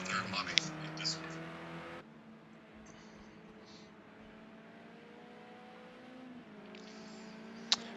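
Race car engines in a racing game at Willow Springs Raceway drone steadily during practice, a low continuous hum that grows louder near the end, while a voice talks over the start.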